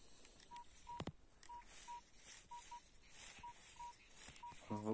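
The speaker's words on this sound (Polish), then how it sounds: "Jest kolejny sygnał." Short high-pitched beeping tones from a Minelab Equinox 800 metal detector signalling a target while searching outdoors, repeating in irregular bursts over faint background noise, with a louder rising warble at the end.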